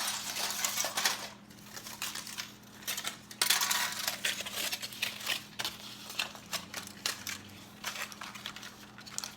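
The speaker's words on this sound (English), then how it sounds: "So carefully wrap it around. I'm using the same foil that I used earlier" Aluminum foil being wrapped around the crust of a low-carb double chocolate pudding pie, giving close, irregular crinkling and crumpling bursts that rise and fall throughout, over a faint steady hum.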